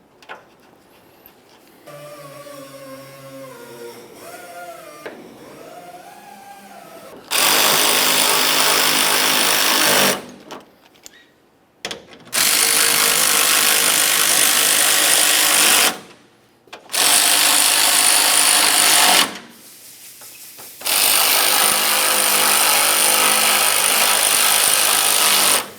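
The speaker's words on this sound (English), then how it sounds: "Start in all 4 of your mounting bolts and then snug them up." Power tool driving the headlight mounting bolts on a 2004-2006 Scion xB: after a few quiet moments of light handling, four loud sustained bursts of whirring tool noise run a few seconds each with short pauses between, close and alone.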